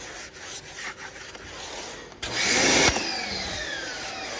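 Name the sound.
Detail Factory tire brush scrubbing a rubber tire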